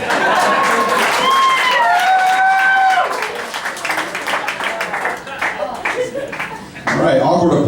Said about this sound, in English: awkward applause